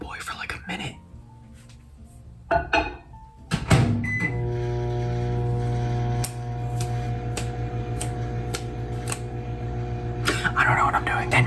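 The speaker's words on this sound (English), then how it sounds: "Now we're gonna microwave this bad boy for like a minute." A microwave oven heating a bowl of noodles and cheese hums steadily and fairly loud after a door clunk and a few clicks, with some quiet handling noise near the end.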